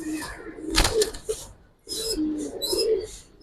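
A red Gorra pigeon cooing up close, a couple of low throaty coos with a sharp knock or flutter near the start, and faint voices in the background.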